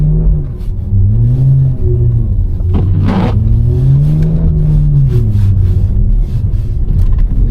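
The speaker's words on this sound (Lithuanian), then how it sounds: "šiaip išmetimo garsas" A BMW Alpina B3 with a modified exhaust drones loudly from inside the car as it drives on the first snow, engine note rising and falling with gear changes and a throaty rumble throughout.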